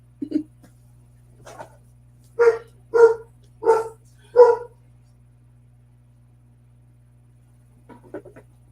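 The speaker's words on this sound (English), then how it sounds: "dog's barking at somebody outside" A dog barks at someone outside, four loud, evenly spaced barks in a row, followed by a few softer yips and whimpers at the start and end over a low steady hum.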